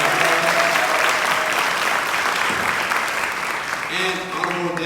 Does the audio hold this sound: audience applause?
yes